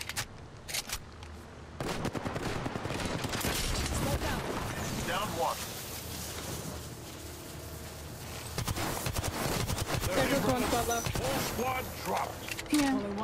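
Gunfire in the Apex Legends video game, heard as dense bursts of rapid shots during a squad fight, with sharp cracks and clattering effects layered through the whole stretch and players talking now and then over the shooting.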